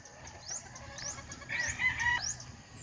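Chickens and roosters in coops give several short, rising calls at moderate distance, with a louder clucking call in the middle, over a low background of rustling.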